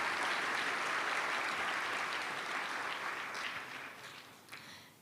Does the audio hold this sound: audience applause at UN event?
yes